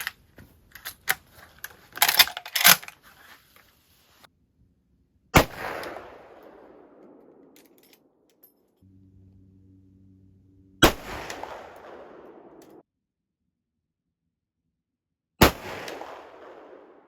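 A .375 Winchester Model 94 lever-action rifle fires 220-grain bullets at an outdoor range: several sharp, loud shots, each trailing off in a ringing echo, with a quieter stretch of handling noises between them.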